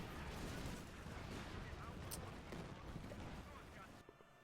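Anti-tank gunfire and artillery-like booms from a Company of Heroes 2 battle, rumbling continuously with repeated blasts, one sharp crack near the middle, dense and fairly loud before easing off at the end.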